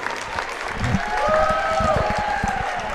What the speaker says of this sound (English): How about a big round of applause for Gabby Oborn?